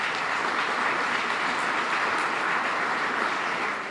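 At a 2014 Huntsville beautification awards gathering, an audience gives dense, sustained applause for board members, a steady wash of many hands clapping at even loudness from start to finish.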